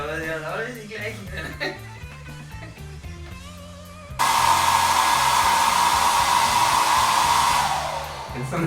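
A hair dryer switches on partway through in a mountain valley lodge, a loud steady blowing whir that holds constant after earlier background talk and clatter, then eases slightly near the end.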